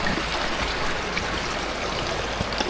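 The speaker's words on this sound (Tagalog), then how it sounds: "may narinig na akong tubig, agos ng tubig" A forest stream flows and gurgles steadily nearby, a continuous wash of running water with no talking over it.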